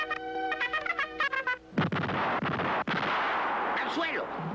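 Cartoon shrapnel grenades going off in a rapid cluster of loud, sharp bursts and crackling blasts, which follow a short tonal musical phrase and continue in a dense, noisy barrage to the end.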